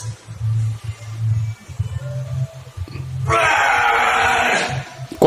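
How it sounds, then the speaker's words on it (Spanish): A man screams and grunts through heavy effort during gym training, with a few strained low bursts in the first seconds, then one long, loud, harsh yell. "Dos gritos y dos gruñidos"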